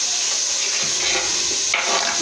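Carrots are dropped into a pan of frying meat and set off a steady, close hiss of sizzling, with a soft clatter as they land and no voices.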